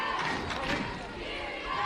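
Softball crowd in Oxford at an Ole Miss home game, a loud sustained cheer and roar from a big crowd, steady and far-spread, with a commentator's voice partly over it.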